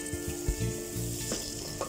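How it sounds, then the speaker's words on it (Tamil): Tomatoes and onions sauté in hot oil for a Madras chicken curry, giving a steady close sizzle and frying hiss with occasional stirring scrapes, no voices. "ஸோ ஓரளவுக்கு தக்காளியை வதக்கிட்டேன் எண்ணெயில்."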